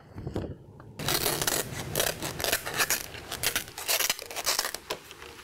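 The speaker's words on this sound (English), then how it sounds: "I'm going to cut the hard part of the banana leaf" Scissors cut through the tough, hard part of a banana leaf while Balinese grilled fish is being prepared, giving a dense run of close, crisp snipping and crunchy tearing after a quiet first second.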